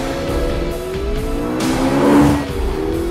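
McLaren P1 hybrid supercar in Forza Motorsport 5, engine revving and climbing in pitch as it accelerates, swelling to a loud peak near the end with a brief tire squeal, then easing off.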